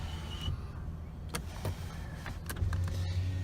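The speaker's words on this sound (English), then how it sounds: "if I press that button and show you in the rear view mirror here, you can see how it opens that third row window" Power vent third-row window on a 2017 Toyota Sienna opening, with a low, steady electric motor hum running throughout and a few faint clicks, heard close inside the cabin with no talking.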